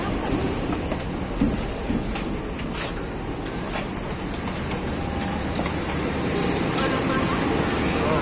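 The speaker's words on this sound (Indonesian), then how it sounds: "Ini kereta Sri Tanjung ke Banyuwangi, Ketapang namanya sekarang." Sri Tanjung passenger train bound for Banyuwangi, heard as a steady broadband rumble of rolling carriages with faint clicks, continuous and fairly loud for the whole stretch, with voices murmuring underneath.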